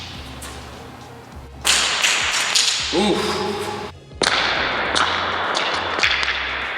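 An Olight WS3 flashlight is tossed up and slams down hard, giving two loud, sharp impact crashes a couple of seconds apart over a noisy background, with a brief exclamation from a voice.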